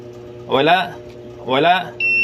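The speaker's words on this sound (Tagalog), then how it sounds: "So bali subukan ko muna yung buzzer. May tunog po siya, ibig sabihin may contact." A multimeter's continuity tester gives two short electronic buzzes, half a second each, while checking an electric fan's wiring, then a steady high beep starts at the end; a low hum runs underneath.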